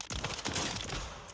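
RAAL LMG fire at training dummies in Call of Duty Warzone, firing single shots in a dense, continuous burst of loud booming reports over about a second, close up with no talk.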